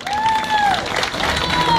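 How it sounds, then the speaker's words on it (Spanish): Crowd applause at an Argentine tango show in Buenos Aires, loud and close, a continuous dense patter of clapping with a voice speaking over it. "fuerte el aplauso."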